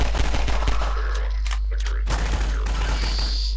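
Gunfire strikes the player in Precursor, a Source engine mod game, in rapid crackling bursts over a steady low hum, broken by a short pause before another volley.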